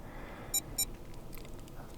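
Two quick, clear electronic beeps come from a Samsung Galaxy SmartTag 2 partway through a factory reset, close and fairly loud against near silence, followed by faint scattered clicks.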